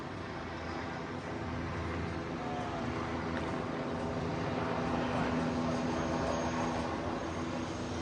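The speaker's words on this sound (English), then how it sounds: "Helicopters still flying around in circles." Helicopters flying in circles overhead near a shooting scene on a city street, a steady distant rotor and engine drone with no break for eight seconds.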